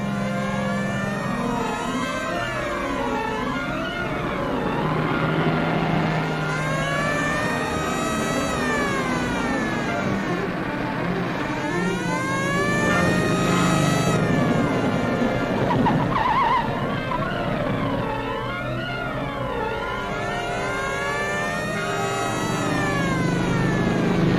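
In a 1945 film scene, a police motorcycle chases a car with its siren wailing up and down in repeated loud sweeps over the hum of the engines. The chase noise is continuous and no one speaks.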